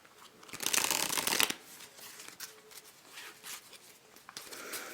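Bicycle Platinum playing cards being fanned and shuffled, a loud close riffle in the first second and a half followed by softer sliding and flicking of cards.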